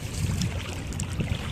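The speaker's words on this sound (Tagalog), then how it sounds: "Ito nga maalon na rin no? Malaki na alon no?" Waves and water wash against a boat at sea, with a steady rushing, splashing texture and wind buffeting the microphone up close.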